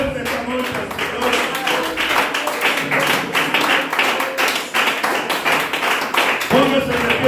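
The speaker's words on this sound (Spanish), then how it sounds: "Vamos a dar un aplauso fuerte esta noche al Señor." A church congregation applauds loudly during a worship service: dense, steady clapping carried on throughout, mixed with voices and a musical backing.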